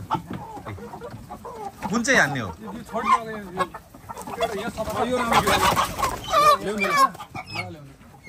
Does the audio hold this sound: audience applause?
no